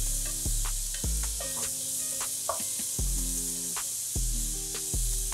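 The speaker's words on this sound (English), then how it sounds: "We'll add the carrots and the onions at the same time so that the carrots will cook" Carrots and onions frying together in olive oil for a turmeric-and-curry-spiced rice dish, giving a steady sizzle with several sharp utensil clinks and scrapes spaced through it, close and alone with no talk.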